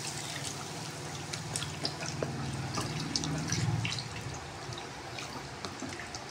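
Tofu is rinsed under a running kitchen tap, a soft steady trickle with scattered drips and light splashes, quiet and continuous with no talking.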